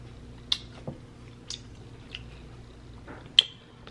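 Close, quiet chewing of homemade sticky spicy BBQ beef ribs, with a handful of wet, sticky smacks and bites spaced irregularly over a faint background hum.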